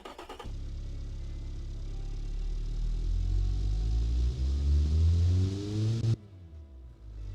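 A car engine in a video game starts and revs, its pitch climbing steadily over several seconds before cutting off abruptly, loud and close with no talking.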